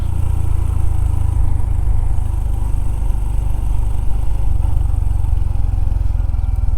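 A Honda CT125 motorcycle engine running steadily and close, with a low constant drone and wind rush during a ride on Normandy roads.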